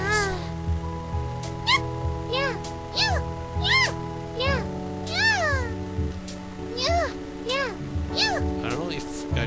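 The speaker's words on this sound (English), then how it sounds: "she's making a meow noise" Repeated cartoonish cat meows from a catgirl character with neko ears in Yandere Simulator, triggered by a key press, sound in a quick irregular series of rising-falling mews over a steady game music bed, with a child-like voice quality.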